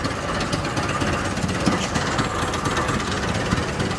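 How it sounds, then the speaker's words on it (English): A small, compact four-cylinder engine runs steadily in a pioneer days parade, giving a continuous rough, knocking rumble at close range with no talking. "Another little 4-cylinder engine. Nice compact, running really good for the guys."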